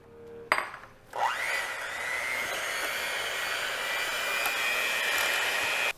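An electric mixer starts with a short clatter, then settles into a steady whirring hum, beating a beaten egg into banana bread batter.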